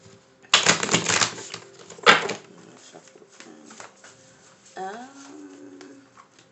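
Crisp riffling bursts of tarot cards being shuffled, two loud flurries followed by lighter shuffling, with a brief voice near the end.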